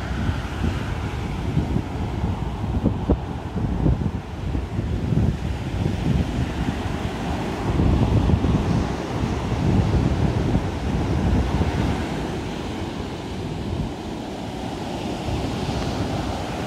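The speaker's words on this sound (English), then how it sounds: "Listen to those waves" Surf breaking on a beach beside a seawall in blustery wind, the waves rolling and crashing loudly and continuously with gusty wind buffeting the microphone.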